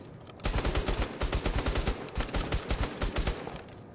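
Rapid bursts of gunfire from a shaky weapon in the VR shooter Bravo Team, loud and close, firing in repeated volleys for several seconds with brief gaps between them.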